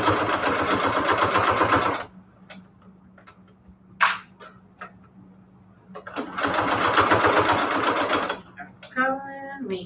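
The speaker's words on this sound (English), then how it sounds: "We are sewing." A sewing machine stitching fabric for patchwork banners in a craft room runs in two loud, steady bursts of rapid whirring, with quiet ticking and brief noises in the pause between them.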